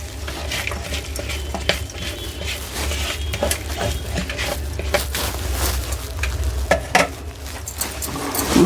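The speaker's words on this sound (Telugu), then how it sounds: "ఇప్పుడు మనం మొత్తం మన పాకంలో ఈ బూందీని వేసేసుకోవడమే." Boondi being tipped into sugar syrup and stirred in a pan for Holi boondi laddu, with a steady wet stirring and sizzle-like patter plus occasional light clinks of utensil on the pan throughout.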